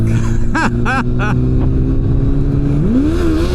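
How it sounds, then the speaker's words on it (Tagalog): A car engine with a sticking accelerator pedal holds a high, steady drone, then climbs sharply in pitch near the end, with voices talking over it inside the car. "Kaya nag-o-over-rev ako eh."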